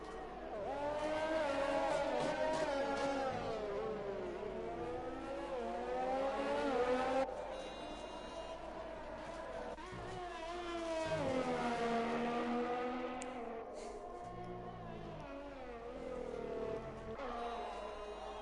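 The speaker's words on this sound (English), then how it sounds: "So the two Racing Point cars begin their final lap." Racing Point Formula 1 cars in a racing video game run their final lap side by side, engines roaring loud and continuous with pitch rising and falling through gear changes, a brief lift and dip midway.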